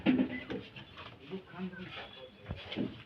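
Pigeons coo softly and low while pecking at grain and rice kept for them at home, with a few short coos under a person talking close by.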